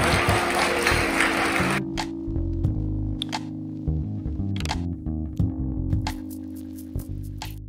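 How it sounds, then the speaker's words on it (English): Applause from an audience of women rings out densely for under two seconds and then stops abruptly, leaving scattered clicks and faint tones. "Just a huge round of applause."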